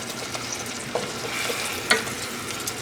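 Onions caramelizing in a hot pan produce a continuous close sizzle, with light utensil clicks and scrapes from stirring, the sharpest one near the end, and nobody speaks.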